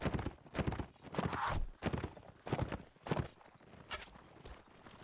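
Hooves clip-clop from a horse carrying a rider in a medieval battle game with axes and javelins, repeated rhythmic steps amid dense battle noise, fairly faint overall.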